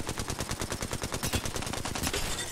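Rapid automatic gunfire in a sci-fi shooter video game firefight, a dense, steady stream of loud, close shots rattling continuously for a few seconds with no voices over it.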